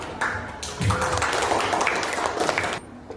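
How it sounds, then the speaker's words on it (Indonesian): Group 1 of a school class gets a round of applause from classmates, a burst of dense clapping that starts abruptly, swells briefly, holds steady for a couple of seconds, then cuts off. "Tepuk tangan untuk kelompok 1."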